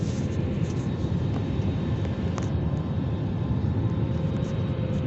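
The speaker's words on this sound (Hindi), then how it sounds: "ये टेक ऑफ के वक्त हवाई जहाज़ के अंदर के हालात।" Airliner cabin during takeoff on a flight toward Brussels via Istanbul, a steady loud roar of engines and airflow with faint rattles, no talk.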